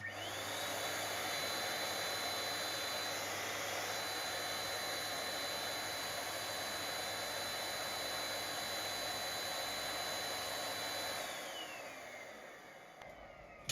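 A Henry vacuum cleaner, rebuilt with a swapped motor, runs steadily with a loud, even whoosh and a high whine, then winds down toward the end as the motor cuts off.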